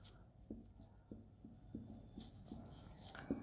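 Hand writing on a classroom board during an accounting lesson, a string of short tapping strokes in an uneven rhythm, faint and close under low room noise.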